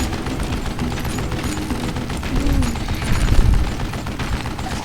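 Gunfire in the Western shooter Call of Juarez: Gunslinger, a dense fusillade of shots rattling under a constant gritty noise bed, swelling louder toward the middle with heavier low booms.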